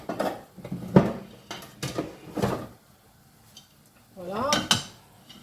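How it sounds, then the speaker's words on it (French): A pot lid and pans clatter in a kitchen as someone rummages through cookware, several short metallic clanks and knocks separated by pauses, close by, with a bit of speech mixed in. "Je vais chercher un couvercle."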